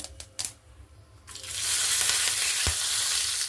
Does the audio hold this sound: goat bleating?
no